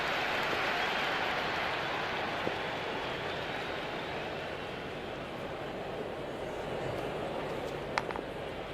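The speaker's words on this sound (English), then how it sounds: "The crowd is electric right now." Steady roar of a stadium crowd cheering in the cricket video game Cricket 26, a dense, continuous wash of noise that stays loud throughout with one brief sharp click near the end.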